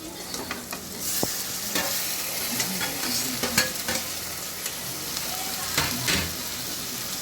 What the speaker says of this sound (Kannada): ಇವು ನೀಟಾಗಿ ಒನ್ ಬೈ ಒನ್ ಫ್ರೈ ಆಗಬೇಕು ಫ್ರೆಂಡ್ಸ್.